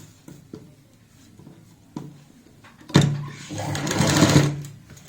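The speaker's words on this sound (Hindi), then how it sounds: "ऊपर से लगा देनी है यहाँ पे सिलाई।" Sewing machine stitching a baby gown hem, with a few soft clicks early on, then a loud burst of steady running stitching that builds and fades, close and alone.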